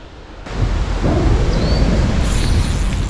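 Thunderstorm with strong wind gusts over open water during a bass fishing outing, heard as a sudden loud rumbling roar that swells in and holds steady with broad wind-blown noise, no talking.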